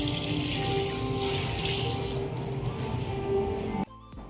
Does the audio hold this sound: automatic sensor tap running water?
yes